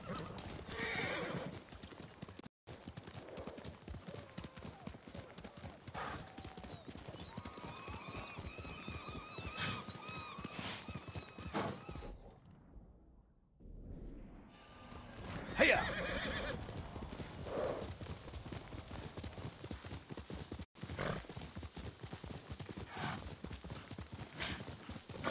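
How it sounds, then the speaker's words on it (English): A horse neighs and its hooves clip-clop steadily in the Ghost of Tsushima video game, hoofbeats running throughout at moderate volume with a whinny partway through and a brief near-silent gap in the middle. "Well, my horse is here."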